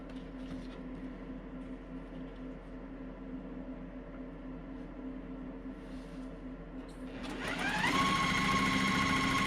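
A sewing machine stitches a quilt block seam, its motor humming and needle clattering steadily, then speeding up to a louder, faster whir near the end, close and without talk.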